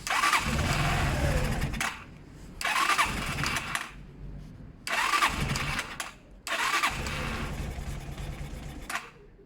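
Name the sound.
motorcycle engine revving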